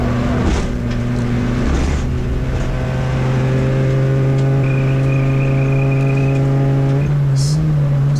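A CityCar Cup racing car on track at Silverstone, its engine droning loud and close from inside the cabin with steady harmonics that shift pitch as it lifts and accelerates, nearly drowning out faint bits of other noise.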